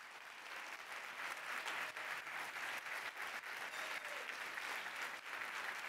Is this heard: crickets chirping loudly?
no